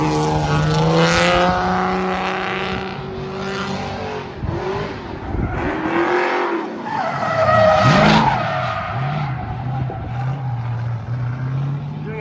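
Loud tire squeal and skidding from a Miata with a Ford Fusion engine swap drifting with clutch kicks, engine revving and dropping as the car slides through a turn, with some speech over it.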